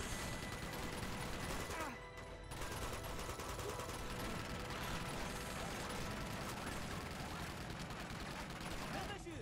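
Turret gunfire in the video game Uncharted 2: Among Thieves comes as dense, rapid, rattling bursts that are loud and nearly continuous. Mechanical clatter sits under the shooting.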